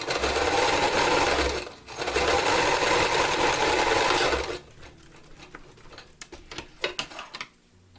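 Sewing machine zigzag stitching a rolled edge on sock fabric, running in a loud, rapid, steady whir for a few seconds, stopping briefly, then running again before dropping to quiet clicks and handling sounds.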